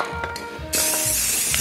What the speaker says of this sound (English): I should spray some more in there.